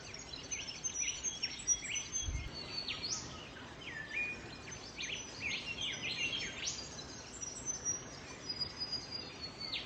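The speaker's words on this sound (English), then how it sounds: "Have a listen to the sounds of all these birds this morning." Faint, scattered bird chirps and calls carry from a distance over a quiet outdoor hum, with no one speaking.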